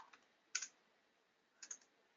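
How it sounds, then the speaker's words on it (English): Quick taps on a computer keyboard, two short clustered bursts of clicking with a quiet pause between, close and faint with no talk. "I'm typing too fast for intelligence to kick in."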